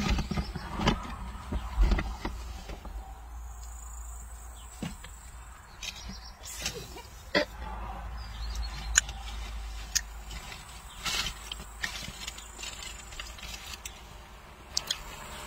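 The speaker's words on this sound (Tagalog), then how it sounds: "May sasakyan." A car passes along a rural road, heard at a moderate distance as a broad rumble beneath scattered ticks and taps, with no talk.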